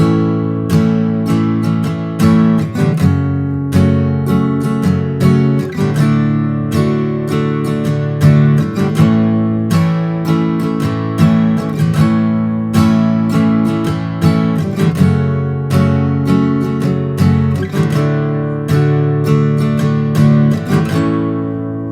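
A guitar strummed in a steady rhythm, the same chords ringing out over and over with bright attacks on each stroke.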